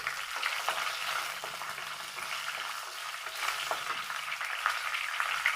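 Dried red chillies sizzle and crackle as they fry in a chicken curry masala, a steady close-up hiss with scattered pops that runs throughout with no voices.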